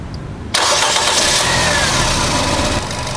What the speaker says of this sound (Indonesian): Saya akan start engine-nya.